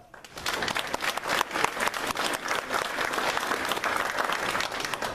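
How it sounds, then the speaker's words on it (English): An audience at a political candidates night applauds the event volunteers, a full, loud burst of clapping that swells quickly and sustains evenly to the end. "so let's give them a round of applause"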